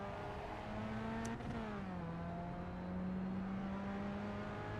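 Race car engine in the iRacing sim holds a steady high drone with a clear downshift-like pitch drop near the middle, then settles into a sustained tone, loud and continuous with no talking; the car may have engine damage.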